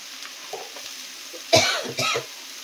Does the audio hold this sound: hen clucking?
no